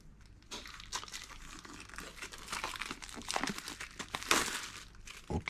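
Plastic packaging crinkles and crunches up close as an Orion Vortex R8X Pro speed controller is unboxed, with steady rustling, crackling and a few sharper tearing bursts and no talking.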